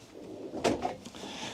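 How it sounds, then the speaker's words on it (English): A cutlery drawer in the kitchen of a Pilote P720 U Evidence motorhome is opened or shut with a single soft thud and brief rattle, fairly quiet and close, with no talking. "a nice big cutlery drawer there, and then a drawer underneath with an inbuilt bin"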